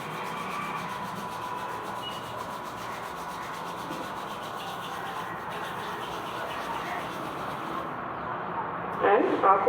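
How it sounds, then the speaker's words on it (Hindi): Palms rubbing briskly together during a yoga session at home, a steady dry swishing friction that runs throughout at moderate level, with a brief louder burst near the end. "हाथ को रब करेंगे, बिल्कुल ढीला छोड़ के, आराम से, जल्दी जल्दी करिए ताकि आपके हाथ में गर्मी आए"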